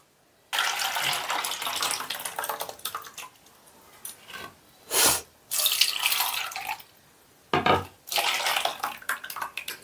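Milk is poured into a container for homemade vanilla ice cream, a steady liquid splash in several separate pours with brief pauses between them, close and fairly loud.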